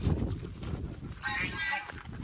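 A goose honks loudly in a farmyard chase, a rough bird call under low rumbling movement that turns into a bright, strained burst of honks near the end.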